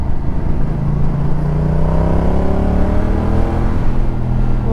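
A 2019 Yamaha MT07 motorcycle engine accelerating on a road ride, its steady drone rising in pitch through the gears, loud and close throughout.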